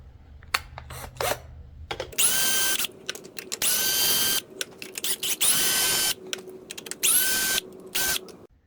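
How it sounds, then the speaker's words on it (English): A power drill spins off 10 mm bolts on a Mercury 90hp outboard motor in repeated close, loud whirring bursts of about a second each, separated by quieter pauses and clicks. "I'm gonna hit them with the drill a little faster."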